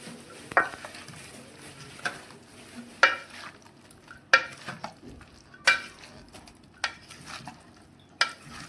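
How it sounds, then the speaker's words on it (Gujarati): Potatoes with coriander and raw mango flavour are stirred in a pan for bhungla batata: regular sharp clinks of a utensil against the metal sit over a low sizzle, close and without speech. "અને કોથમીર ઉમેરી દઈશું અને આવી રીતે મિક્સ કરી લઈશું"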